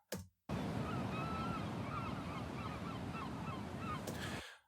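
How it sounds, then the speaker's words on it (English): Ocean fishing ambience from the video game Dredge: a steady, full wash of waves and surf with scattered seabird and goose-like calls over it, running continuously without talk before fading out. "here's the fishing ambience"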